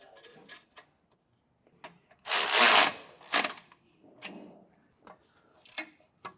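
A socket wrench tightens bolts on the bracket of a Firestone Ride-Rite Extreme Duty rear air helper spring, giving bursts of rapid ratcheting clicks with a louder stretch of cranking in the middle, close and alone.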